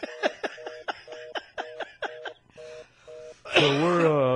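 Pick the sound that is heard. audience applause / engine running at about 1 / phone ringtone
phone ringtone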